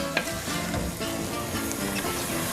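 Food sizzles and crackles steadily in a hot pan for Greek-style spaghetti bolognese, a dense continuous frying hiss with faint stirring.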